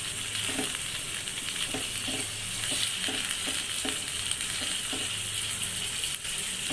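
Chicken frying with garlic and ginger for Peshawari karahi, a steady sizzle with clear rhythmic stirring scrapes of the spoon across the pan every half second or so, loud and close throughout with no talk.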